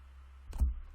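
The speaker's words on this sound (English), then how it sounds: "I'm going to cut the deck" A deck of cards is cut by hand: one soft, brief riffle and thump near the middle of a quiet moment, with a faint rustle trailing after.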